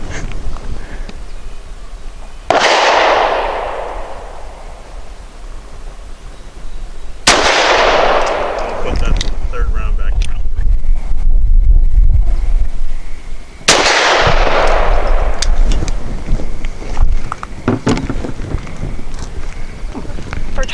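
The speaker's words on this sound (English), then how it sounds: "Target number 3, I'm shooting the Hornady 100 grain critical defense light." A Springfield XDe 9mm pistol loaded with Hornady 100 grain ammunition fires three loud, close shots spaced several seconds apart, each ringing out over wind noise on the microphone.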